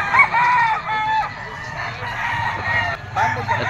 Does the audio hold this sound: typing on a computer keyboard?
no